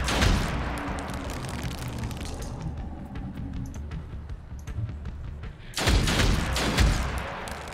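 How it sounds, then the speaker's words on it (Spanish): Gunfire in the video game Othercide comes as a burst of sharp shots at the start, then rumbling combat noise, and a second loud volley of shots near the end. "Vas a disparar, sin más. Disparar tres veces."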